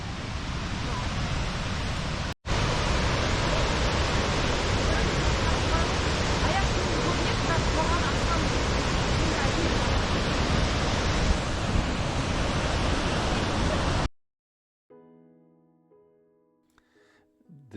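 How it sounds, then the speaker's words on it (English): A 20-meter waterfall in Hellesylt, Norway, pouring a huge volume of water, heard as a loud, dense, steady roar close by that runs unbroken for about fourteen seconds and then cuts off, with faint voices after it stops. "This waterfall is only 20 meters high, but the volume of water is astounding."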